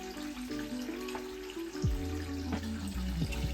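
Water gurgles and trickles through a pipe being used to siphon dirty water out of a guppy tank, with faint splashing and low bubbling tones shifting in pitch, quiet and close.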